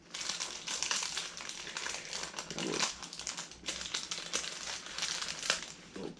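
Paper crinkles and rustles close by as a wrestling toy accessory, a turnbuckle pad, is unfolded from its wrapping, a steady stream of dry crackles with no talking.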